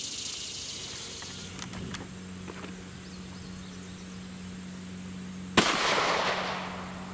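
A single sharp gunshot from a 30 Super Carry Federal HST round fired into a test block, a loud crack near the end following a quiet stretch with a steady low hum and a few small clicks.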